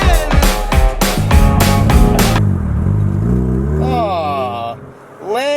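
A Nissan 350Z with a built LS3 V8 swap out on the road, its engine revving hard and loud through the gears in a rising, dropping drone, with voices talking over it.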